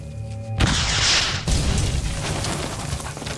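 A war film scene set in the desert shows gunfire from a mosque, with one abrupt loud boom and then a second sharp blast. Each is followed by a long reverberating roar that holds steady to the end, with no speech over it.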